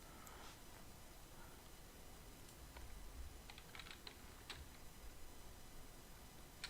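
Computer keyboard typing sounds faintly as a few scattered key clicks over a quiet hum, with small bursts of light taps spread over several seconds.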